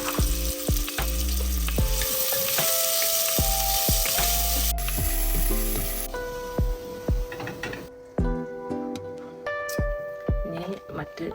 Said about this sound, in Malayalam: ഇനി വറക്കാനുള്ള സവാള ചേർത്ത് കൊടുക്കാം